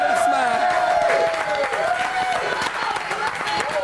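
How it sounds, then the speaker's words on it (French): Studio audience applause on a French reality TV evening show, steady clapping mixed with music and a voice underneath throughout. "Bon applaudissement."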